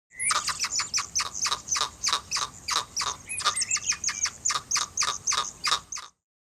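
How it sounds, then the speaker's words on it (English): A hyrax gives a rapid series of shrill, bird-like chirping calls, repeating steadily for about six seconds, loud and close, with brief squeaky trills mixed in. "This is a hyrax."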